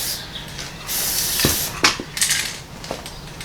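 Bursts of spray paint hiss from an aerosol can onto a deer skull mount, one long spray followed by shorter puffs, with light clinks of handling in between.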